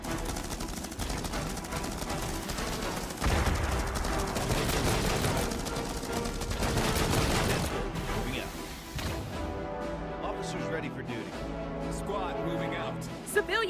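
Heavy autocannon fire in the strategy game Starship Troopers: Terran Command, a loud, sustained burst of rapid gunfire and crashing impacts that fades partway through, while voices speak over the fighting.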